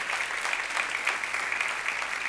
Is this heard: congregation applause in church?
yes